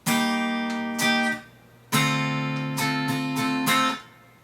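An acoustic guitar strums minor seventh chords in a down-up pattern, a few bright strokes ringing out with short pauses between, close and clear.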